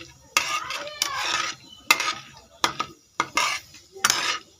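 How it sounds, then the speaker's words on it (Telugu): Eggs stirred in a hot pan with a Telugu-style tempering for egg onion karam: sharp bursts of spatula scraping and metal clinks against the pan, separated by short pauses, over a faint sizzle. "ఇలా తాలింపు పెట్టేసి గుడ్లు వేపేసి"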